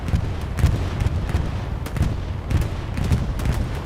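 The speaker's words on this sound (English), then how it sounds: "Allied bombing run." An Allied bombing run pounds Sainte-Marie-du-Mont in Hell Let Loose, a steady barrage of heavy, overlapping explosions thudding at short intervals with a continuous rumbling roar beneath.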